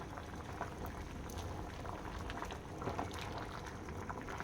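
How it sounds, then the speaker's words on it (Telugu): Broad beans boil in a covered pot of water on a stove, giving a steady, dense bubbling and hissing that continues evenly throughout with scattered small pops. "చిక్కుడుకాయ బాగా ఉడికేసింది."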